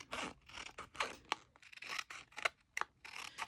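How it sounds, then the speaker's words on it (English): Scissors snip through a paper picture in a quick run of close, crisp cuts, each bite short and sharp with brief gaps of paper rustle between. "so scissors, don't fail me"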